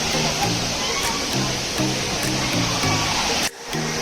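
Rushing water pours steadily at the Juinagar waterfall, a dense continuous roar close by, with people talking and calling out over the flow throughout.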